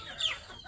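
A native desi chicken being fed corn meal lets out a single short, fairly soft cluck over a quiet background.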